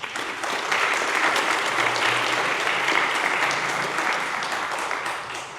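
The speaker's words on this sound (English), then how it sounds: "Everybody please give a warm round of applause for Professor Ibrahim." Warm applause from a dinner audience at an iftar event greeting a university professor, a dense steady wash of many hands clapping that holds for several seconds and then tapers slightly.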